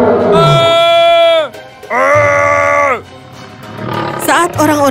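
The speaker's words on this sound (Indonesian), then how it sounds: "tiba-tiba dari semak-semak muncullah seekor singa yang mengaum dengan geram." An angry lion roars: two long, loud, harmonic bellows separated by a short pause, then rougher growling snarls that continue to the end, close and dominant.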